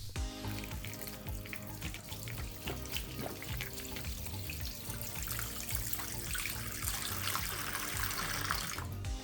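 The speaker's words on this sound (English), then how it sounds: "We'll be placing this iPhone into the bowl and pour the water" Water poured into a bowl holding an iPhone 16 Pro, a loud, continuous splashing gush lasting several seconds and swelling louder toward the end.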